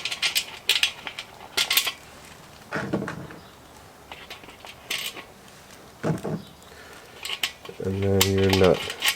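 Screws, washers and a nut being fitted by hand to the vent of a Char-Griller kettle grill: scattered small metallic clinks, taps and rattles of hardware against the steel body, close by, with a brief steady hum near the end.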